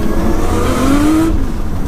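A 700bhp Nissan R33 Skyline revs hard through its screamer pipe, a loud close engine roar with a rising whine, cutting off sharply near the end with no talk.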